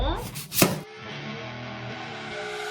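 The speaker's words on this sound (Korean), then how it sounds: "양파 좀 썰어주고" An onion sliced with a knife on a cutting board for a pork dish, a few sharp close chops at the start before the cutting stops and music carries on.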